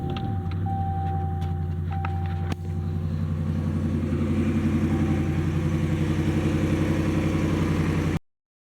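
A car engine, jump-started from a donor car's battery, runs steadily with a low idling rumble, growing slightly louder and more regular after a brief dip, continuous throughout with no voices.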